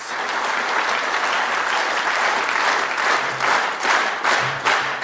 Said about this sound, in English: let's just all clap synchronously together